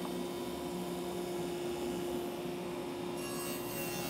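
Table saw with its blade raised in small steps, cutting a cove in wood, a steady loud whining hum with continuous grinding rasp of the blade working the board, no talking.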